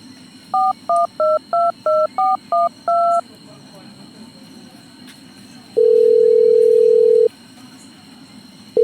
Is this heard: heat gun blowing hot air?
no